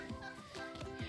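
Farm turkeys gobble in quick rattling bursts, several overlapping calls packed into about a second at moderate distance, with no talk.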